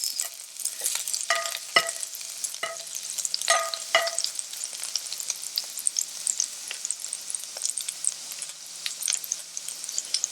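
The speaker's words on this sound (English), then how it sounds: "So we'll start the garlic. Sweat it out a bit, probably for a good 10 seconds." Garlic sweats in a hot pan for a vegan sisig, giving a bright, crackling sizzle that runs the whole time, with a cluster of spatula scrapes and taps early on.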